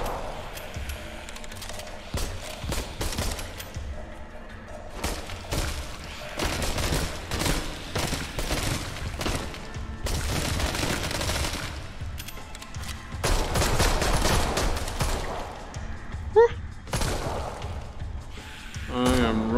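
Dense gunfire from the co-op zombie shooter video game Arizona Sunshine, including handgun fire, crackles in rapid, overlapping bursts. The shots are loud and near, over a busy game background, with players talking now and then.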